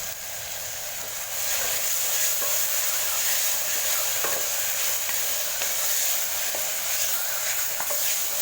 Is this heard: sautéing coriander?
yes